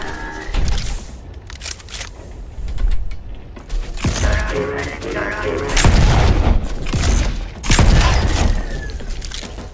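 Guns fire in bursts in the robot-filled game Volcanoids, loud cracking volleys and booming impacts layered with clanking mechanical noise, surging several times over ten seconds.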